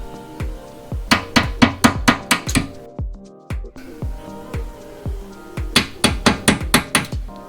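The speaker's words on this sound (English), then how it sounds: "I'm just gonna tap it slightly with a hammer to push it out of the rivets" A hammer taps out rivet pins on a BMW mud guard in quick bursts of sharp metallic knocks, close and loud, with a short pause midway before another rapid run.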